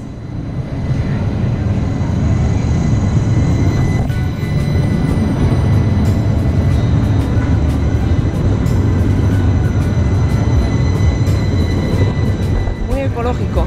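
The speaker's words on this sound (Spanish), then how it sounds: "Sevilla tiene tranvía." A tram in the historic center of Seville rumbles past at close range, a loud sustained roar with rail squeals and clatter over about fourteen seconds.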